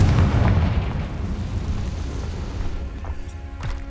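A Confringo spell blast in the Hogwarts Legacy video game sets off a deep, rumbling boom that swells at the start and then decays into a long low roar, with faint crackles near the end.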